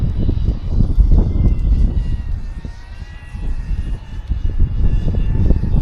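A DJI Avata 2 drone flies in strong wind, giving a loud, steady buzzing whine of small propellers with thin tonal bands. Heavy low wind buffeting surges throughout and no one speaks.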